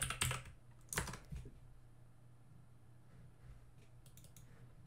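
Keys clatter on a computer keyboard in a few short, fairly faint bursts, with quiet pauses between them.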